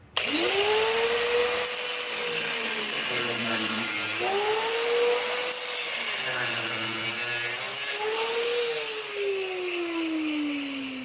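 Power cutting tool slicing off a MIG weld on the rocker panel area of a 1965 Ford Thunderbird convertible body, a loud continuous high whine with pitch dips as the blade bites, running steadily for about eleven seconds with no talk.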